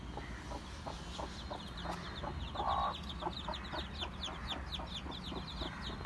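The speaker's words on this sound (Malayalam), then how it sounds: "ഇത് എൻ്റെ കോഴികളാണ്" Backyard hens kept alongside pet fish give off steady soft clucking and scattered bird calls that carry on through the whole stretch, with no voices.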